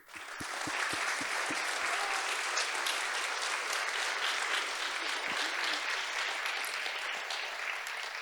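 Sustained audience applause for prize-winning writers at the Frontières literary prize ceremony, a dense, even wash of many hands clapping from a large crowd that rises quickly and holds steady.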